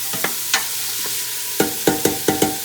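Onions and carrots sauté over a steady frying hiss in a pan, with a series of sharp scraping strokes from a salad spoon stirring them, several close clatters in an uneven rhythm and no talking.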